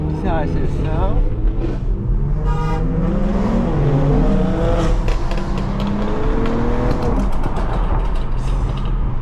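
BMW X3M SUVs with loud exhausts accelerate hard through traffic, a deep roaring rumble that rises and falls with gear changes, close and continuous, while people talk excitedly over it.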